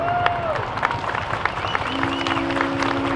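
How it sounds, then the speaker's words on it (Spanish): A crowd at an outdoor Our Lady of Guadalupe religious procession claps in a steady, dense round of applause, with faint tones and voices mixed underneath. "Démosle un fuerte aplauso."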